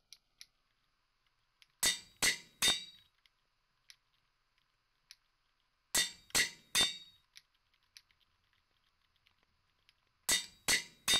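Three quick bright metallic clanks of an anvil in the Minecraft video game, clustered together and repeated in three bursts, with faint clicks between them and no talking.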